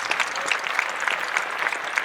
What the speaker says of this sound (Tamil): அவருக்கு ஒரு நல்ல கைத்தட்டல் கொடுங்க.